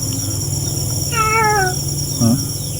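A cat gives two meows, one drawn-out and wavering, then a short one, over a steady hum of insects and background noise.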